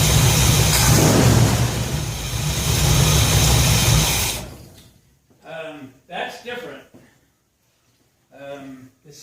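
A 1966 Ford F100 shop truck engine runs loud and close for about four seconds after a cold start with no choke, then cuts off abruptly, leaving someone talking in short bursts over near silence.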